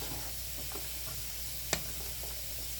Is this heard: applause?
no